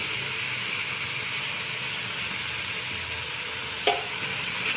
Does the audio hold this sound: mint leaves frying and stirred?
yes